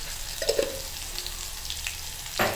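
Onion frying with a pinch of asafoetida in a pan, a steady close sizzle with a couple of brief stirring scrapes and a louder clatter at the end.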